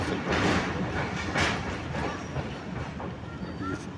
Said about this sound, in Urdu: یہ سرگودا ریلوے اسٹیشن پہ ٹرین پہنچ چکی ہے